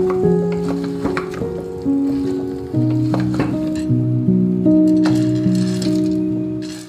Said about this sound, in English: it's time to add the cut veggies.